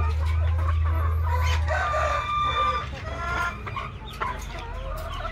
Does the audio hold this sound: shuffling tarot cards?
no